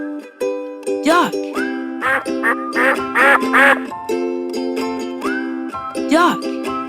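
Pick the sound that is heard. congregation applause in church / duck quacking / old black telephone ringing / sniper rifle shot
duck quacking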